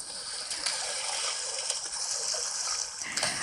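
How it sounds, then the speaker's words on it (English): Swimming splash sound effect from a children's story app: a steady rush of water with small splashes and sloshes on top, continuous and close for the whole stretch. "and I swam to the other side"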